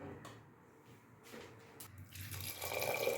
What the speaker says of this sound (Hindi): अभी हम इसमें पानी डाल दिया।